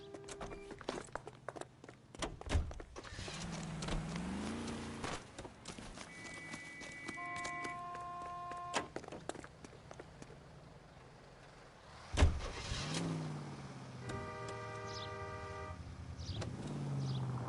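A car door thuds and a vehicle engine revs and pulls away in the video game L.A. Noire, with game sound effects and tonal beeps around it and a second sharp impact partway through.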